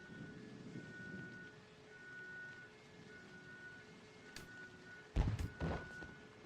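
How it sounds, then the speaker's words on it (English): Rain falling outside in The Da Vinci Code video game on PS2, at Biggin Hill Airfield. The wash of rain is steady and soft, with a rumble of thunder and a couple of louder bursts near the end. "It is literally raining outside."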